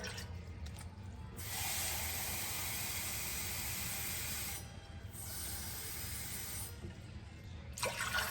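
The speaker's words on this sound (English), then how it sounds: "I'm going to start by first putting the water to boil" Steady hissing water noise with a low rumble, rising and falling in sections, like water heating and beginning to boil in a pot.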